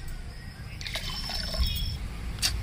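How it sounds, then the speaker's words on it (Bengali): Water poured into a pan of simmering sugar syrup with cracked cardamom pods, made for a pineapple sweet: a soft, steady trickle and splash over a low bubbling background, fairly close, ending abruptly. "তো আর একটু জল দিয়ে দেব।"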